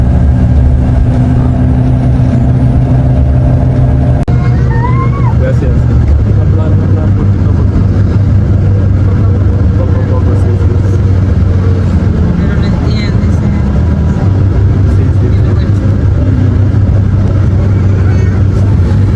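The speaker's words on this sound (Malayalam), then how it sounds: "ബസ് യാത്ര ആരംഭിച്ചിട്ടുണ്ട്." A bus drives along a coastal road beside a Caribbean beach, its engine giving a steady, loud low rumble with road noise throughout and no clear breaks.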